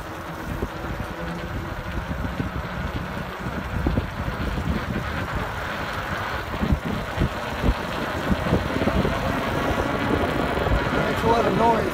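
A motorized fat-tire trike engine roars steadily while riding at about 18 mph, a rough, rumbling, continuous noise mixed with wind buffeting on the microphone and a voice talking over it.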